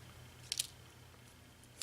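Scissors snipping off a small piece of paper from a handmade card: one quick, faint double snip up close, then a light tick near the end, with a quiet room behind.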